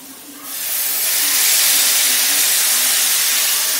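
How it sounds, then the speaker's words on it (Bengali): Water poured into a hot pan of fried bitter gourd and green banana for a Bengali shukto sets off a loud, steady steam hiss that surges up within a second and holds strong. "এখন এর মধ্যে জল দিয়ে দেব।"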